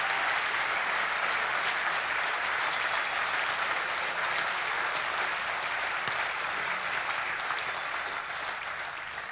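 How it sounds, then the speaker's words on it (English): A large folk festival crowd gives sustained, dense applause, a continuous even roar of clapping that tapers slightly at the very end. "So I'd like you all to give all these people a big round of applause."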